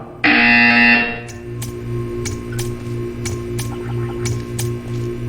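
A loud, harsh electronic buzzer from the video game Portal 2 blares for about a second, then a steady hum and periodic ticking clicks continue underneath.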